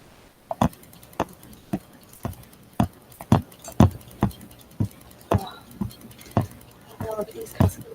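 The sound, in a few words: sewing machine running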